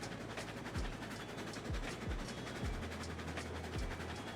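A train rolling along in Railroads Online gives a steady rumbling drone broken by repeated low thumps, like wheels clicking over rail joints, heard alone.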